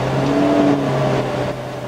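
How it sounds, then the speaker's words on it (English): A 2006 Mini Cooper accelerating at full throttle, its engine droning with steady harmonic tones under load, close and loud, easing off near the end. "Let's just try to floor it."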